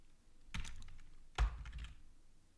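Typing on a computer keyboard comes through as two quick bursts of close, crisp key clicks, each lasting about half a second and separated by a short pause.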